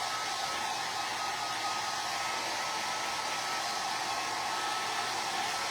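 A hair dryer runs steadily on one setting, drying paint on a handmade floral door hanger, giving a constant close-up whooshing roar with no talking.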